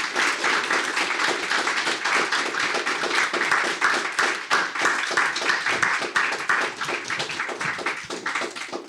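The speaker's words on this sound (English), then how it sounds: "Please join me in giving them a round of applause." An audience applauding panelists at a disability policy event, dense sustained clapping from many hands throughout, fairly close and steady.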